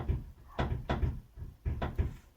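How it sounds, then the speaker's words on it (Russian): A loose car hood on a Renault Logan knocks over road bumps, giving five dull, close thuds in quick pairs with short pauses between them. "Оказывается, стучит-то у меня капот на каждой кочке от ветра."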